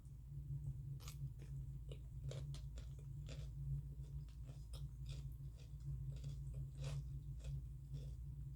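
Crunchy chewing of ampalaya (bitter melon) during a mukbang meal with chicken wings, a series of close, repeated crisp bites and munching over a steady low hum, with no talking.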